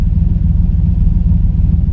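The V8 engine of a 1984 TVR 4.0 V8 Wedge with a competition carburetor idles loud and close, a deep, lumpy rumble with a steady throbbing pulse and no talking.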